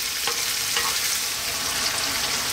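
Garlic chicken and tomatoes fry in oil in a pan, giving a loud, steady sizzle with a couple of soft stirring scrapes and no talk.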